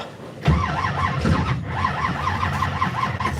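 A car's starter cranks the engine in a repeated, rhythmic whir with squealing overtones, close and loud, while the engine fails to catch without throttle.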